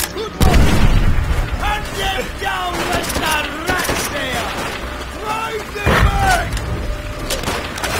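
A grenade blast and bursts of gunfire in the World War II shooter Call of Duty: World at War, with heavy booms near the start and again later over a steady din of battle.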